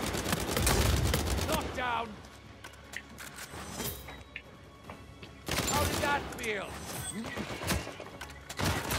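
Grenade blasts and gunfire in the Uncharted 4 Bounty Hunter multiplayer game, two loud bursts of explosive crackle separated by quieter stretches of scattered shots, with voices talking over the action.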